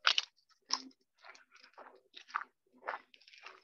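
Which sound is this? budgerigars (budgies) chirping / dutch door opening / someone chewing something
someone chewing something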